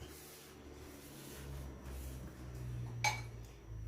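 A large cooking pot handled in a home kitchen while preparing chicken with mushroom cream sauce, soft metallic rubbing and scraping followed by one bright clink, fairly quiet and close.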